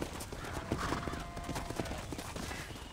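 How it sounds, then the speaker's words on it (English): Horse hooves clip-clop in a quick trotting rhythm in Red Dead Redemption, close and clear, with a brief whinny and faint background game sounds. "Hit your horse and wait for me by the stable."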